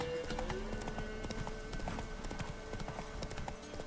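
Horse hooves clip-clop steadily in the video game The Witcher 3: Wild Hunt as a horse is ridden through swamps, a brisk, continuous rhythm over game ambience.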